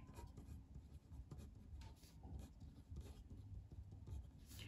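Pen or marker writing notes in a classroom during an anatomy lesson, a steady run of soft scratchy strokes and taps continuing throughout at close range with no talk.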